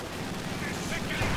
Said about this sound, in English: Bastards are shooting at us.